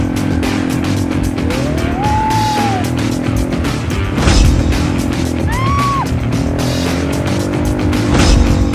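ATV engines drone and rev continuously up close on a beach, with bursts of acceleration and pitch swoops as the vehicles race along.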